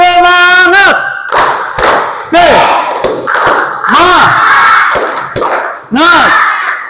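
A classroom group performs a rhythmic spirit clap, with bursts of claps and shouted chants from the students mixed with loud voices, repeating in short phrases over several seconds.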